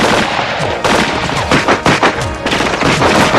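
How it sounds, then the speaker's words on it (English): Rapid, sustained gunfire from a 1987 RoboCop film scene, dense overlapping shots and bursts filling the whole stretch, loud and close with no talk. "Why are you still shooting him?"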